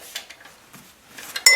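Light metallic taps on a part of a DC 1260 machine during a belt change, a few quick scattered knocks close by with a sharper clink at the end, no voices.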